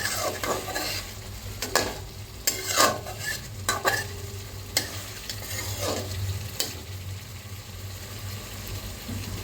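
Spice paste with hilsa fish and ground black cumin sizzles steadily in a pan, with intermittent scraping and stirring strokes of a spatula, moderately quiet and close, with no talking.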